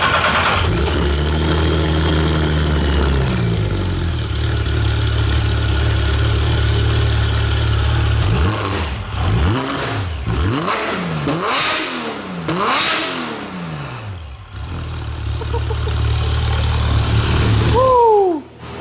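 Procharged Porsche GT3 RS starting up, settling into a loud idle, then blipped through a series of sharp, screaming revs toward 9,000 RPM before dropping back to idle, close and alone with no talking.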